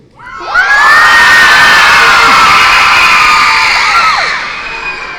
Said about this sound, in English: I'd like to ask you to yell as loud as you can if you love your new school.